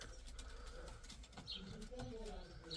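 Soft pigeon coos murmur close by in a steady stream inside a loft, with occasional wing flutters and people talking over them in Turkish.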